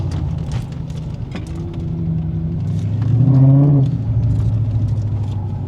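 A turbocharged car accelerates in a roll race, its engine droning loudly and steadily, then swelling to a stronger rising growl midway before settling back.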